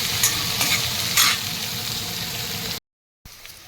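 Onions fry in a pan for a Uttar Karnataka ridge gourd dish, making a steady close sizzle broken by several scraping stirs, then a brief cut to silence before the frying resumes.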